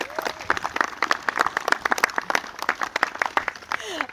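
Guests applaud at a wedding ceremony, with a steady run of close clapping for about four seconds and a few voices rising over it.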